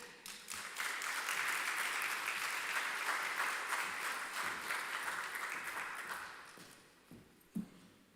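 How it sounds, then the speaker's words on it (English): Conference audience at the Jamaica Agri-Business Investment Forum breaks into loud, sustained applause that holds steady for several seconds, then thins out and fades, with a few last scattered claps. "I want you to give her the biggest round of applause"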